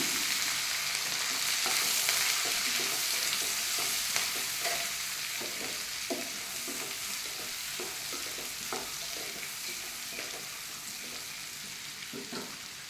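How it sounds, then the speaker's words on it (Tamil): Cumin seeds and boiled vegetables sauté in oil and melted butter, giving a loud, continuous close-up sizzle with frequent small scraping and stirring clicks throughout. "இந்த டைமில் ஜீரகத்தை போட்டுட்டு கொஞ்சம் வேக வச்ச காய்கறியே போட்டுக்கலாம். நல்லா வதங்கட்டும்."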